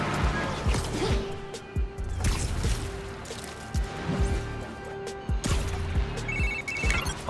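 A phone text message alert in the Spider-Man: Miles Morales game, a short bright electronic chime near the end over ongoing thuds, clatter and background game sounds.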